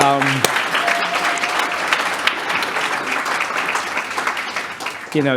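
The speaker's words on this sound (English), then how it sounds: "let's give him a round of applause" An audience bursts into a sustained round of applause at a photography festival keynote lecture, dense and steady clapping filling the hall for several seconds, with a voice briefly at the start and end.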